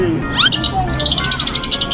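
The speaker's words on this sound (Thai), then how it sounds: "แต่เสียงนกนี่คือเสียงดีมากเลยเนาะ เสียงดังกว่าเบลล่าอีกอะ" Several caged birds at a pet shop chirp and tweet in bright bursts against a busy background hum, with voices murmuring underneath.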